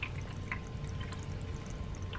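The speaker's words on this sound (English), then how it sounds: "I got my little waterfall," A small decorative indoor waterfall fountain trickles quietly and steadily, with soft drips and gentle splashing close by in a calm room and no voices.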